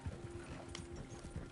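Faint, low hoofbeats of horses galloping at speed in Red Dead Redemption 2 repeat in an even rhythm under a soft background, muted and somewhat distant.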